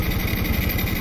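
A 125 cc motorcycle fitted with a GY6 carburetor and running without a battery idles in a brief, steady, low, pulsing putter, close by and with no talk.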